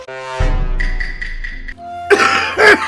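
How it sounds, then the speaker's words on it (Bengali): An older woman coughs harshly several times, short rough bursts close to the listener with strained, voiced sounds between them, and no other background. "হায় রে আল্লাহ, এমন কাশি হয়েছে"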